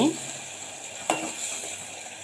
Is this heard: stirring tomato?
yes